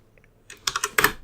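Brief burst of computer keyboard typing during a coding lesson, a few quick close keystrokes after two faint taps, with no talking.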